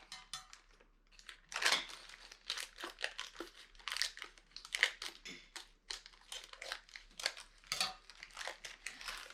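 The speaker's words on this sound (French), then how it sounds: "je vais ouvrir les sachets" Plastic sachets from a bath bomb making kit are crinkled and torn open, bursts of close rustling and crackling repeated in irregular bouts with no talk.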